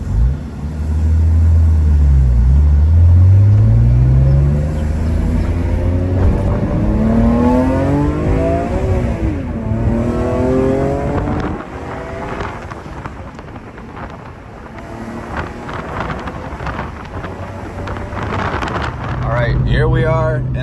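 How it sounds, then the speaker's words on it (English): An S54-swapped BMW E46 M3 wagon, freshly broken in, accelerates hard through rising and falling revs, the engine note sweeping up through the gears inside the cabin with heavy wind buffeting. "this is the first drive after the engine got broken in"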